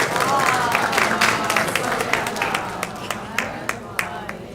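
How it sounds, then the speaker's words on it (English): A school graduation audience applauds as a graduate is welcomed, with dense clapping at first that thins to a few scattered, distinct claps. "Please welcome her with a round of applause"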